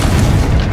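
A Confringo spell blast in the Hogwarts Legacy video game, a single short, loud, deep boom that fills the moment with dense low rumble.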